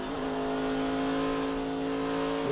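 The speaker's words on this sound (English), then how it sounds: "Listen to him shifting." NASCAR Truck Series race truck at Phoenix Raceway, a loud sustained engine roar that holds one pitch and then drops sharply near the end as the driver shifts gears.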